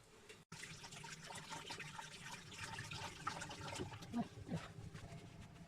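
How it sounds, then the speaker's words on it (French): Hands rinsed under a running kitchen tap while making semolina quenelles, a steady close splashing wash of water that continues for several seconds with a few small clinks. "Je vais me rincer les mains."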